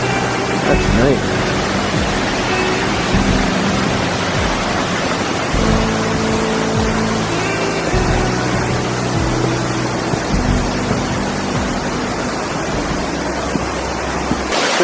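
River rushing near the base of a waterfall, a loud continuous roar of churning water that fills the whole stretch, with fainter scattered sounds mixed in.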